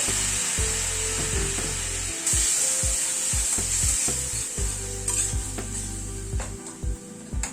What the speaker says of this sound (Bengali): সব দিয়ে মশলাটাকে একটুখানি কষিয়ে নিচ্ছি। সামান্য একটু গরম জল দিয়ে দিচ্ছি, মশলাটা কষাতে সুবিধা হবে।